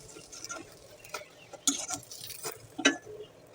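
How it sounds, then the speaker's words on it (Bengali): Onion and chili fry in a pan, heard as faint sizzling under irregular clinks and scrapes of a utensil against the pan, with a few sharper knocks, close and quiet, without talking. "এখন সেই পেঁয়াজ মরিচগুলো ভাজবো। ভেজে নিব।"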